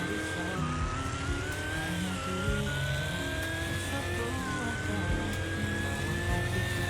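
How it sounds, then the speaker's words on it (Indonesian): A BMW with a 4.9-litre V8 pulls hard under acceleration, its engine drone rising steadily in pitch and dipping briefly at a gear change before climbing again, loud and continuous, heard from inside the car with road and wind noise beneath it. "Dengan suara khas BMW-nya dengan mesin 4900 liter V8 guys ya"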